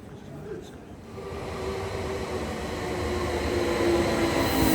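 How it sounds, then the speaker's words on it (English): A B train to Helsinki rumbles along the rails, its steady low roar growing gradually louder with a faint wheel whine across the few seconds. "This is the B train by Ekberg to Helsinki."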